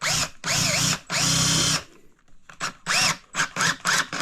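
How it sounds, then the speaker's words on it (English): A battery power drill bores a hole into a log for a shiiitake mushroom dowel in a series of about seven close, whining bursts, three longer ones followed by shorter stuttering pulses after a brief pause. "all you do is you drill your hole"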